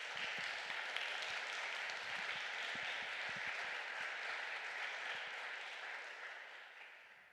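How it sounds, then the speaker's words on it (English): A conference audience applauds a panel: a soft, continuous patter of many hands, fairly distant and quiet, holding steady before tapering away over about seven seconds. "let's make an applause to all the people here"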